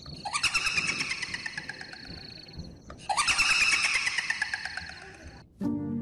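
Shrill, eerie cackling laughter in two long rising-and-falling bursts, loud and close, each a rapid stuttering squeal, followed by a brief low thud.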